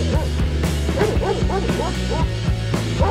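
Dog barking repeatedly in short yips and bow-wows, with some whimpering, close and fairly loud in a home watched by a security camera, with voices faintly in the background.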